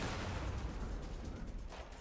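A detonation erupts in the Saints Row video game, a dense, rumbling blast that fills the short moment with sustained low roar and crackle.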